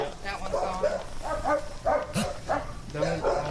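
A stuck dog at a breeder's property barks repeatedly in short, close bursts while people talk over and around the barking.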